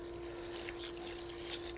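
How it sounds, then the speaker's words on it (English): Water flowing from a garden hose spigot with a 100-foot expandable hose attached, a steady faint hissing rush with a constant tonal hum underneath, continuous throughout. "Water starts flowing."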